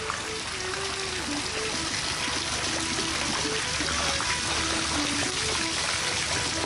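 Water spills and trickles steadily over passengers in a leaking Zodiac inflatable boat on a northern Michigan inland waterway, a continuous splashing wash at moderate level with a faint tonal whine beneath.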